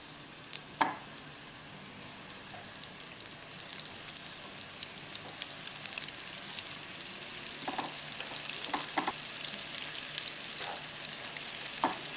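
Flour-coated popcorn fish pieces fry in a small fryer with a quiet, steady bubbling sizzle and scattered crackles and pops throughout.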